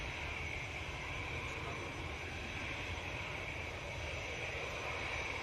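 An EasyJet airliner bound for Antalya builds toward takeoff in a constant distant engine roar, low and even throughout, with no clear voices.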